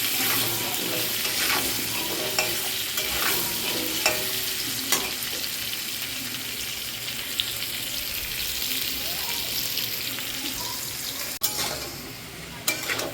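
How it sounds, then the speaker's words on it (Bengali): Potatoes fry in hot oil until browned, giving a constant sizzle with occasional sharp clicks of a utensil stirring the pan, close by and without talk. "আলুটা লাল করে আমি একদম ভেজে নিই"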